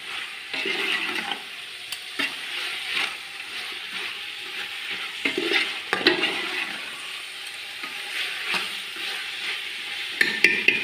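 Ginger garlic paste frying in a pan with a pinch of turmeric, a steady close sizzle and hiss with occasional stirring scrapes and clinks throughout.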